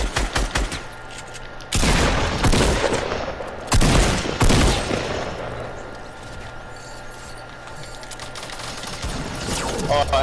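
Video game gunfire in rapid automatic bursts, loud and close, repeating in several clusters over steady background noise, with players talking in between.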